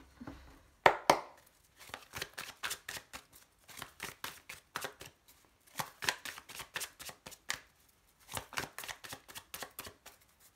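A deck of tarot cards is shuffled by hand in quick rhythmic riffles, with a sharper snap near the start, then repeated bursts of soft, close card flutters with short pauses between them.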